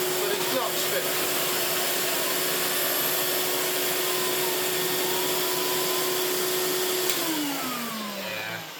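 A Hoover Portapower S1126 vacuum cleaner runs with a loud, steady whine and airy roar that holds evenly throughout, its pitch sliding downward and the sound easing slightly near the end as the motor slows.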